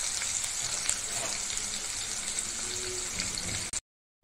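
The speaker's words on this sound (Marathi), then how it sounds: "हे जरा परतून जरा कांद्याला पण बदामी कलर आल्यानंतर" Cumin and onions fry in a pan, a steady bright sizzle close up with faint stirring, cutting off abruptly at the end.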